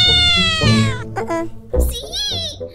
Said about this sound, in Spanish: ¿Eso de ahí es un gato?